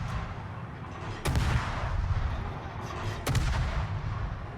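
Naval artillery salvos boom from a World of Warships destroyer firing on the Shimakaze, with two sharp loud blasts standing out over a constant roaring engine and sea rumble.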